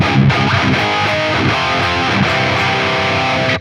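Heavily distorted electric guitar through an amp with an EQ placed before the gain, playing a tight, chugging riff with a saturated, compressed tone, loud and alone before cutting off abruptly.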